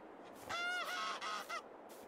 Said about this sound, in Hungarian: Na itt meg a pulyka.